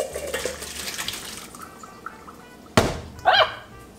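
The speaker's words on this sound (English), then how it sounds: "strain into a clean saucepan" Simmered Vermont cheddar soup is strained into a clean saucepan: liquid pours and splashes at first, then a sharp metallic clunk rings out and a short clattering splash follows, all close by with no talking.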